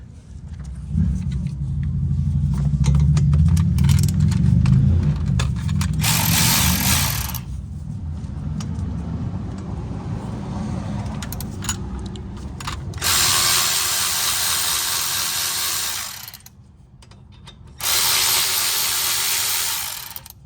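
A socket ratchet works on the caliper bolts of a fourth-generation Mazda 3's front brakes, with bursts of clicking and mechanical rattling over a low rumble, in several separate spells with pauses between them.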